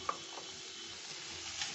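Leftover fried eggplant sautés in a pan, a faint, even sizzle running steadily throughout with a soft tap at the start.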